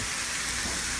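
Garlic sizzling in a pan for homemade spaghetti sauce, a steady, bright hiss of frying crackle held at an even level throughout with no voices.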